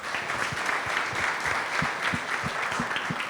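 A class of students claps for their JEE results in a coaching session, a brisk, steady patter of many hands at moderate loudness, continuing throughout without speech.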